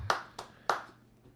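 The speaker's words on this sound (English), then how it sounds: "Intro applause here." Three separate hand claps, spaced about a third of a second apart, as a brief intro applause on a podcast episode; the claps are crisp, close and isolated, with quiet gaps between them.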